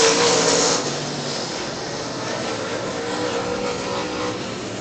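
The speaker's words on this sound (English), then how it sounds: "it's going to be Quaid driving down to the inside and driving around." Late model race cars circling an oval track, engines roaring loudly at first as a car passes close, then settling into a steadier, more distant drone.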